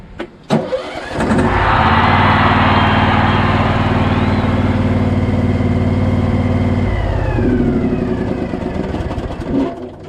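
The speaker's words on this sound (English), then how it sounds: "engine starts without anything" A Husqvarna 2346XLS lawn tractor engine, with its seat safety switch bypassed, cranks and catches, then runs at a steady, loud idle with a low rumbling drone before cutting off near the end.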